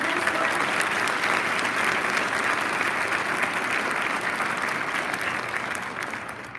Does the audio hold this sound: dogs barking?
no